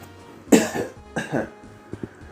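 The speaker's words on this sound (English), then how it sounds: "I'm sorry, I need to cough again." Two harsh coughs close to the mic, each a rough burst, followed by a couple of softer throat-clearing noises.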